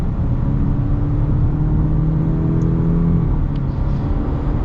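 A 2025 Subaru Legacy with the naturally aspirated engine and CVT accelerating on the road, a loud steady engine drone with rising whir heard from inside the car, no talk.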